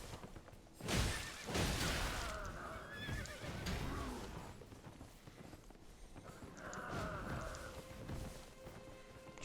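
A horse in the Elden Ring video game whinnies loudly near the start, then hooves clip-clop along with scuffing steps and another neigh later, close and clear over a quiet game background.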